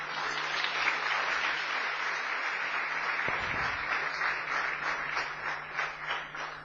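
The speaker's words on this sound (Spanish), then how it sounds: "Demos un aplauso al Rey." A church congregation applauding during a sermon, steady close clapping that continues throughout, with a low hum and one brief thump partway through.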